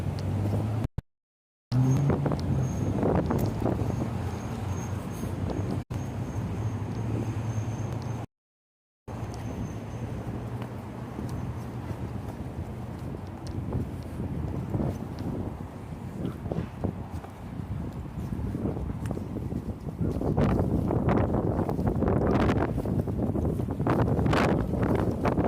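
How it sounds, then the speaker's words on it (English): Strong wind on a street in Northwest Seattle, roaring and buffeting the microphone in gusts that swell louder toward the end, with brief dropouts and no talk. "So much wind."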